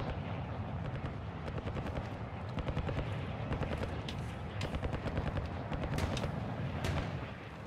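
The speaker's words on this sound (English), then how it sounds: "looks like there's a team over here because they're shooting up there" Rapid bursts of automatic gunfire from an enemy team in the video game Warzone 2.0 DMZ, crackling shots overlapping in dense rattling volleys that continue without pause, moderately distant, with no talk.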